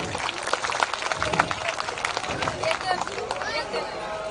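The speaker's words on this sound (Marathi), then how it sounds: "या आयोजक टीमसाठी एकदा जोरदार टाळ्या झाल्या पाहिजेत" Loud, dense applause from the crowd at an outdoor folk-song programme, honouring the organising team, with a rapid, sustained patter of many hands close by and crowd noise mixed in.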